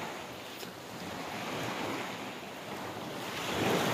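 Sea waves washing onto the shore at San Narciso, Quezon, a steady broad rushing surf with wind noise, swelling louder near the end, with no voices.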